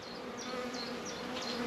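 Honeybees buzzing at a beehive that has only just built up, a steady soft hum with individual bees droning past close by, faint and continuous with no voices.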